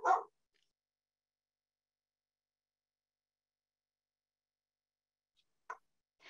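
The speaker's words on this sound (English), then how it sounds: "my dogs have started to bark" Dogs give a few short, sharp barks indoors: one bark at the start, then a long silence, then two more quick barks near the end. They sound fairly faint and a little distant, and no one speaks.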